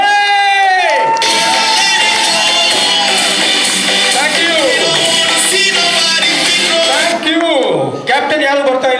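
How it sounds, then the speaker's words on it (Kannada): A crowd at a school silver jubilee reunion and teachers' tribute ceremony, SMB High School, cheering, whooping and shouting loudly, with rising and falling yells over a dense roar and voices calling out throughout. "ಒಂದ್ಸರಿ ಜೋರಾಗಿ ಚಪ್ಪಾಳೆ."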